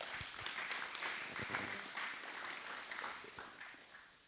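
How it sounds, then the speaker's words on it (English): An audience at an Anguilla national elections debate claps for a speaker: a faint, distant, steady patter of applause that tapers off slightly toward the end. "Round of applause for him, please."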